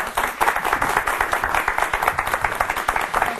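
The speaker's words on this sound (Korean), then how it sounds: "박수로 맞이해 주시기 바랍니다" A studio audience of military leadership graduate students applauds to welcome a lecturer, a continuous crisp clatter of many hands at close range with no speech over it.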